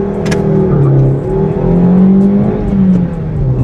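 A Maruti Suzuki Baleno engine, with the AC switched off, revs toward 5000 rpm in a loud, close whir whose pitch rises and falls through several swells with no talk over it.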